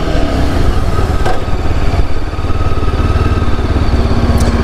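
A 2022 Yezdi Scrambler motorcycle engine runs steadily and loudly up close, a continuous throbbing rumble with no pauses.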